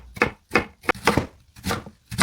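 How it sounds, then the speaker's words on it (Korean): A knife julienning Korean radish on a cutting board, with about six crisp, rhythmic chops in quick succession, close and clear with no talk. "저는 칼을 사용해서 채 썰게요."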